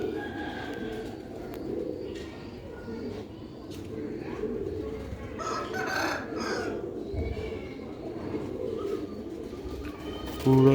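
Pigeons coo softly and steadily across a loft kept for Sialkoti-breed pigeon pairs, a low continuous murmur of calls with some clucking from other fowl nearby and general background noise throughout.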